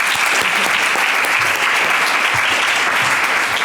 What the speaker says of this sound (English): Let's have a round of applause for that as well.